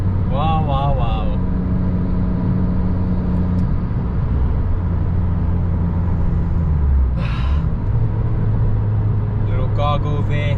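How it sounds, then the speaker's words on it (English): Abarth 595 Turismo exhaust gargling on a third-gear downshift, a steady loud engine rumble with a brief crackle near the middle, heard from inside the car while someone talks over it. "Little gargle there."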